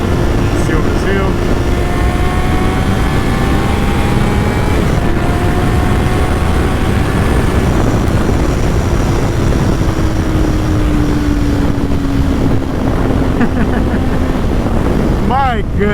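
A Honda CBR 650 sport motorcycle out on a ride, its engine a steady droning roar that rises and falls in pitch through the gears, mixed with heavy wind buffeting over the whole stretch.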